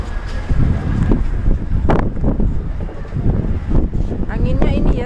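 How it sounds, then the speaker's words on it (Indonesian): Strong winter wind gusts across the Xiangshan Wetlands in Hsinchu, Taiwan, buffeting the microphone with loud, continuous rumbling under a person talking. "Anginnya ini ya cukup kencang."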